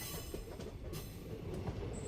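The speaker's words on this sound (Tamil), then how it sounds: "இப்போ நம்மளுடைய ரயிலானது 13 ஆர்ச் பாலத்தில் பயணம் பண்ணிகிட்ருக்குங்க." A train crosses the British-era thirteen-arch bridge on the Thenmalai–Sengottai railway line, with a steady rumble of wagons, rhythmic wheel clatter and a faint squeal, heard from on board at moderate level.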